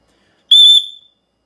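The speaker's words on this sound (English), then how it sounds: "This is pretty much the same as all the other aluminum whistles we got, just this one is black" A black aluminum survival whistle sounds one loud, piercing, shrill blast of about half a second that tails off quickly, heard alone against silence.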